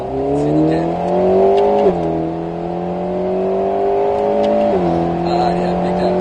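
Engine note of an Alpine A110 S accelerating on the Grand Sambuc race circuit, rising steadily with two clear gear changes and a loud in-cabin drone.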